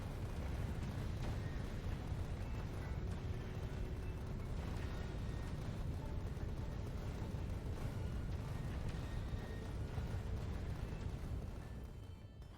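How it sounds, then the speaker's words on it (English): Asteroids striking in Factorio: Space Age, a steady, loud low rumble of overlapping impact thuds and booms that runs without a break, with faint game tones above it. "I guess the asteroids are what causes the loudness at the moment."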